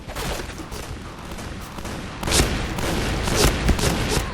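Rapid gunfire from the online shooter game PB (Point Blank) crackles in dense, overlapping bursts, moderately loud at first and then growing heavier and more insistent about halfway through, with no voices over it.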